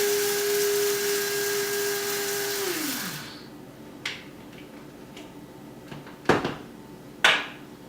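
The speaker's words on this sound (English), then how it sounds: "all I do is hit the button, and it grinds it into a fine powder" An electric grinder whirs at high speed, pulverising smoothie ingredients into a fine powder, then winds down and stops after about three seconds, followed by a few sharp knocks and clicks in the quiet.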